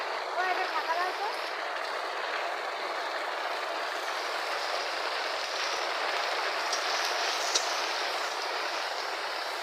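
Steady rain falls outdoors, a dense, even hiss that continues unbroken throughout at moderate, fairly distant loudness.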